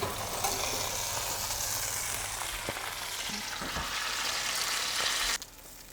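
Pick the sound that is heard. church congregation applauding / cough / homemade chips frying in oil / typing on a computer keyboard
homemade chips frying in oil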